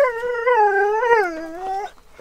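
A dog lets out a single close, loud, sustained howl lasting nearly two seconds, wavering slightly in pitch, then it breaks off into quiet.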